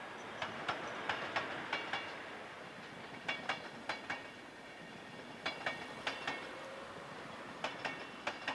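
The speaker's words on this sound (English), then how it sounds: "BLS Historic Loco number 251 works in from Brig on a special working" Historic BLS locomotive number 251, in from Brig on a special working, hauls a rake of SBB coaches past at moderate distance, its wheels striking rail joints in a steady run of clickety-clack pairs over a low rumble.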